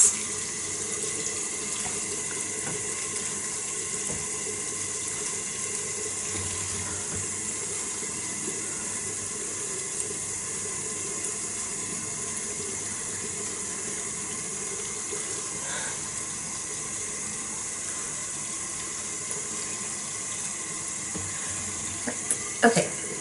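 A tap runs steadily into a sink while someone rinses their face, a continuous hissing water flow heard close throughout, with faint splashing and no talk.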